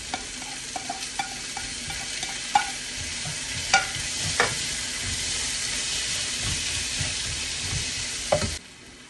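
Garlic and tomato sauté in a hot pan for a mussel dish, giving a steady close sizzle and hiss broken by intermittent scraping knocks of stirring.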